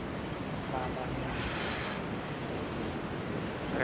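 Steady rushing wind over breaking surf in an America's Cup sailing game, 22-knot wind, a constant roar of water and air with no pauses, fairly close and even throughout.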